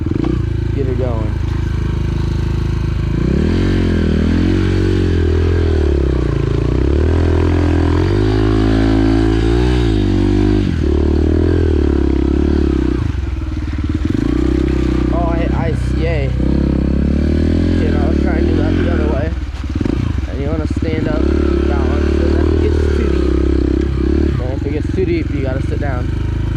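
An enduro motorcycle rides slowly through seaweed in second gear, its engine loud and close throughout and rising and falling as it works through the soft ground, with occasional clatter and voices talking over it.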